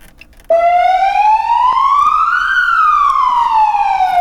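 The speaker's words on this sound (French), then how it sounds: "Tu veux mettre la sirène ?" Ambulance siren switched on after a short quiet start, one loud tonal wail sweeping slowly upward then falling again, close and alone.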